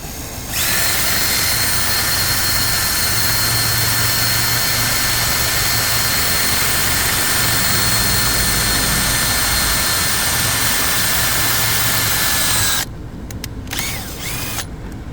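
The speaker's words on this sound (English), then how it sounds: "I'm gonna whack a screw into the side there for the earth." A power drill driving a screw into the side of a car's interior for an earth connection, a loud, steady high-pitched whir running unbroken for about twelve seconds, then stopping abruptly.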